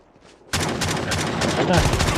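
Loud, rapid gunfire from an online battle royale video game bursts in suddenly after a quiet moment and keeps rattling in dense, sustained volleys to the end.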